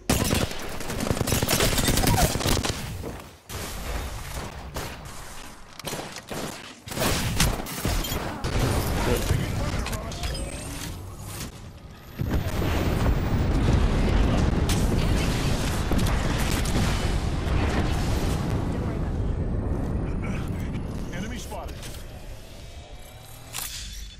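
Gunfire and explosions rattle through an Apex Legends match: dense bursts of automatic fire and sharp cracks in clustered volleys, brief lulls, then a long stretch of continuous loud battle noise, with faint speech mixed in.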